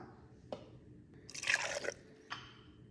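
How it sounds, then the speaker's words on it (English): A shot of espresso is poured over twelve ice cubes, giving soft liquid splashes and a brief crackling, clinking burst of ice, with quiet drips before and after. "I have 12 ice cubes here, to which I add a shot of espresso."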